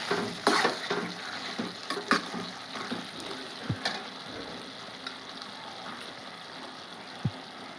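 Chili powder sizzles with softened tomato pieces in a pan for a prawn and egg curry, a steady close frying hiss broken by stirring scrapes and a few soft clunks against the pan.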